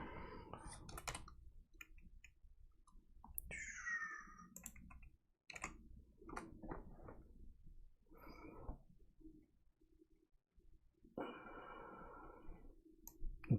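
Bursts of clicking on a computer keyboard as a prompt is typed in, short irregular runs of keystrokes separated by quiet gaps, with a few other brief sounds mixed in.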